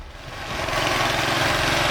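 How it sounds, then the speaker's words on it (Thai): A small farm tiller engine runs steadily, its mid-pitched mechanical drone rising in loudness during the first half-second and then holding at an even level. "สามารถเร่งเครื่องอีกได้นะครับ"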